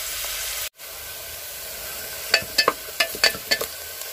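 Onions fry in a pan over a high flame, giving a constant hiss broken by a short gap, then a run of sharp clattering stirring strokes near the end.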